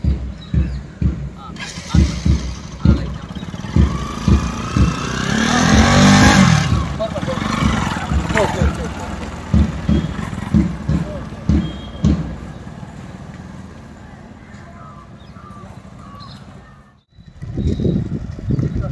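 A geared motorcycle ridden by a beginner rumbles and revs unevenly, swelling as it passes close by, while people talk over the engine throughout.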